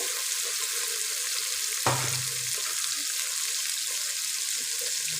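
Onion and tomato fry in a pan with a continuous bright sizzle, broken once by a brief clatter, with no talking.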